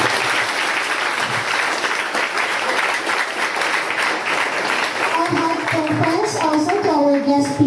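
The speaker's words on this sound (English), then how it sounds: "A round of applause." Sustained applause from a school graduation audience, steady broadband clapping throughout, with some voices and a tonal melody emerging toward the end.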